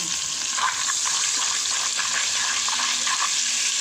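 Melted butter with salt and black pepper sizzles in a pan, a steady, even hiss heard close up without speech.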